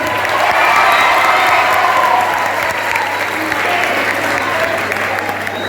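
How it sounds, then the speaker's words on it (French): A hall full of people at a school cultural day gives students and their teachers a sustained ovation, continuous thick clapping with a faint crowd murmur under a low electrical hum. "je vous demande de les applaudir tous"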